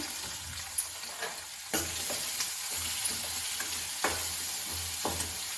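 Sliced onion and a couple of green chillies sauté in a pan for potato masala, a continuous close sizzle broken by repeated spoon scrapes and clacks at an uneven rhythm, with no voices.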